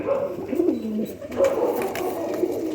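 Old-breed pigeons coo in soft, throaty, repeated calls close by, several rolling coos following one another.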